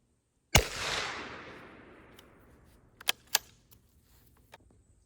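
A single sharp .17 caliber rifle shot into a block of wood cracks out close and loud, its echo tailing away over a second or two, followed by a few quieter clicks and knocks.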